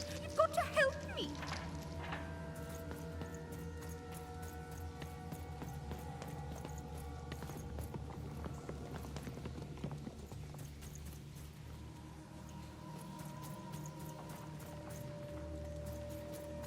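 Talking horse in the game Lost in Random, hooves clip-clopping steadily at a walking pace throughout, fairly faint beneath background music and tones.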